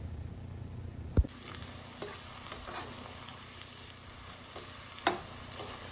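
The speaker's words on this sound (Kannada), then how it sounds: "ಸಿಪ್ಪೆ ಬಿಡಿಸಿ ಬೆಳ್ಳುಳ್ಳಿನ ನಾನು ಎಣ್ಣೆಲಿ ಫ್ರೈ ಮಾಡ್ಕೊತಾ ಇರೋದು." Peeled garlic cloves deep frying in oil for North Karnataka mandakki, a steady low sizzle running throughout with a couple of sharp utensil knocks near the start and toward the end.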